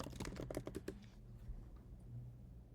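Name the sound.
typing an address on a computer keyboard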